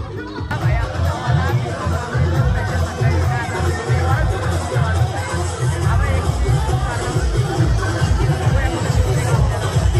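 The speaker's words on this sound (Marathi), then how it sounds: "खूपच गर्दी आज रविवार आहे." Dense crowd babble at a busy Sunday village fair (yatra) in Sajgaon, Khopoli, steady and close, with many overlapping voices chattering throughout.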